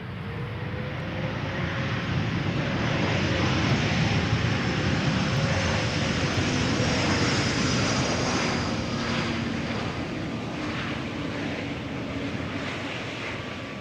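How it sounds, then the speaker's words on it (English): An Embraer E2 jet arriving at Amsterdam Schiphol Airport makes a steady, loud roar of engine noise that swells and then slowly fades as it passes the listener outdoors. "E2 Embraer arriving from Bergen."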